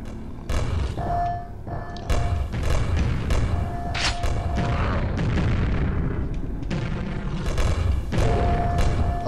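Grenades bouncing and exploding in Quake 1, a series of heavy thuds and booming blasts spaced through the clip over continuous game noise, near and loud.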